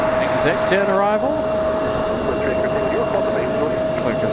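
Cessna Citation business jet arriving at Raleigh-Durham International Airport, a steady jet engine whine and roar under a voice speaking, with a constant tonal hum throughout.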